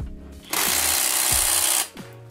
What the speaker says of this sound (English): We'll go ahead and we'll see if the good old Hercules will break these bolts loose.